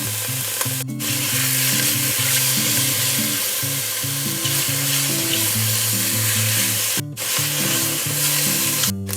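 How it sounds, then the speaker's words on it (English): Mushrooms fry and brown in a pan, sizzling steadily with a dense crackle, while a low melodic tone runs beneath and two short sharp clatters land early and late. "we're looking for some browning in these mushrooms, some crispiness"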